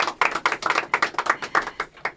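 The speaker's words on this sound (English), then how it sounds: "Let's give him a round of applause." Sparse hand clapping for a performer being introduced at a live show, a couple of pairs of hands tapping out quick, uneven claps at close range with no voices.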